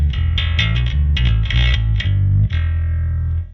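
Harley Benton PB-20 BK electric bass with its tone control turned fully to treble, playing a loud, bright riff of plucked notes with a grinding, distorted edge and a final note left to ring out.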